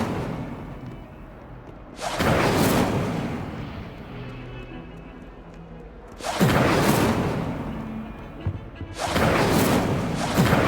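Incendio fire spell cast in the wizarding game Hogwarts Legacy, three loud roaring whooshes of flame bursting out, each lasting a couple of seconds, separated by quieter low rumbling ambience.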